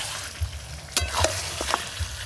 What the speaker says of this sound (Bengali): তুমি তাহলে চিকেনগুলো বারবার নাড়তে থাকো,